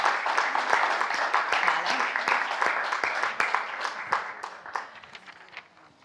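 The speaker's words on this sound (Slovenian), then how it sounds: "En velik aplavz, prosim, za njihovo rešitev." An audience at a hackathon event applauds a team's solution, a dense burst of clapping that holds steady, then thins out and fades toward the end.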